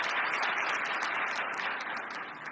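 A church congregation breaks into steady applause, a dense even wash of many hands clapping at once, moderately loud and sustained before easing off slightly toward the end, with no voices rising above it.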